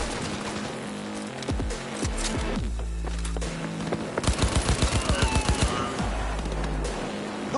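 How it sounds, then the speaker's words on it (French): Rapid machine gun and automatic gunfire in the Cyberpunk 2077 video game, with bursts of shots, a steady run of rhythmic shots near the middle, and game sound effects around them. "J'ai entendu des coups de feu."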